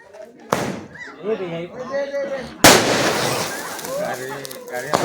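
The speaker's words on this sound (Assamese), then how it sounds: "বিয়ার দামি বোমা আনছি এইটো" An expensive firecracker set off at a wedding, two sharp loud blasts about two seconds apart, the second bigger and followed by a lingering rumble, with people talking and shouting throughout.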